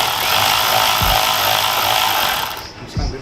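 A power tool runs in a steady buzzing whir while tightening a nut and washer on the front lip of a 2020 Toyota A90 Supra, with a couple of soft knocks, then stops.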